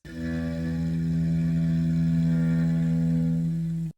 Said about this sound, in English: One of them is a bowed instrument.